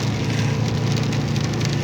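Steady rain patters continuously, a dense wash of drops with a low rumbling hum underneath and no voices.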